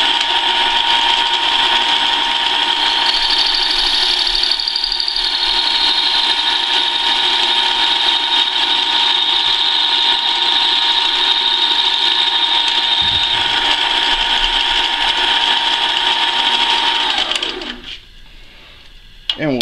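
A lathe turns a wheel through its last cut on one side, a steady, loud mechanical whine with a bright sustained tone that runs evenly for about seventeen seconds before spinning down abruptly near the end.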